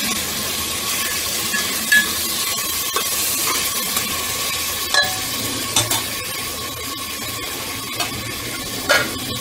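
Bengali mutton curry with ginger, onion and garlic paste is stirred in a pot, a steady moderate sizzle with a faint tone running under it and several sharp clinks of a spoon against metal spaced through it, heard without talking.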